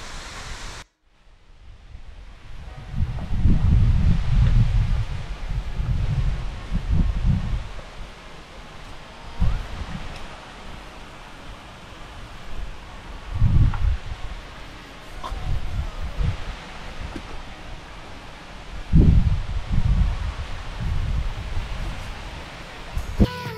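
Water rushes steadily at Kataldhar waterfall near Lonavala in monsoon season, a broad continuous roar broken by gusty low rumbles, heard close up and outdoors.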